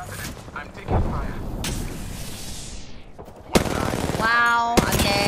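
Rapid gunfire fills a match of the video game Apex Legends, with bursts of automatic fire, sharp shots and booming impacts layered over game effects and rising electronic tones. Play is loud and continuous, with no clear talk over it.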